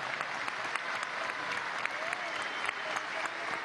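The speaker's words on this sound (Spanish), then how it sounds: "Mira cómo te aplauden aquí." Steady applause from a crowd at a Venezuelan presidential government council event for people with disabilities, continuous and even, moderately distant, with no break.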